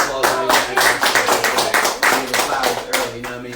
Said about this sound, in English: And we'll give her a round of applause.